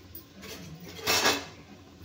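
Spices being stirred into turmeric and chili in a cooking pot for a soybean chunk gravy, giving a short scraping, clinking swell of metal utensil against pot midway through, moderately loud and close, with no talk.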